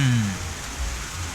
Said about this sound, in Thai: โอ้ฝนตกแรงด้วยนะทุกคน